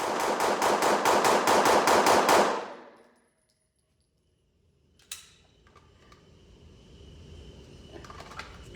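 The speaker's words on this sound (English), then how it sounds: "I'm gonna shoot fast as I can, all headshots." A Glock 19c Gen 4 pistol fires rapidly at a target, loud sharp shots in a fast even string of about ten for over two seconds, then a ringing fade, quiet, and a single distant clank.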